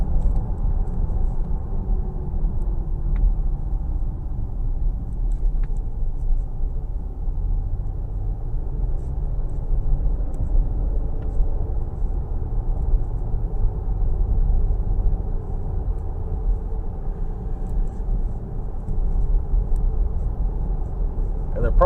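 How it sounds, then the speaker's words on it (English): Steady low rumble of off-road tires on pavement inside a 2023 Nissan Pathfinder Rock Creek V6 while driving, a constant droning road noise throughout. "the biggest thing is just the road noise at this point from these off-road tires"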